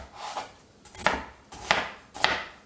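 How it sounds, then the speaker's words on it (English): Knife chopping vegetables roughly for turkey stock, four sharp cuts against a board in a slow irregular rhythm, close and fairly quiet with no talking. "Another rough chop"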